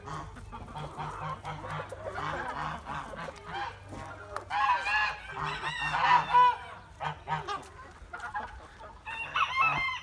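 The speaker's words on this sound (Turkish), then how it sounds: "Bu da videoda öten horozum arkadaşlar" Backyard roosters crowing among a mixed flock of chickens and geese, several long harmonic crows rising over steady clucking and honking at moderate distance.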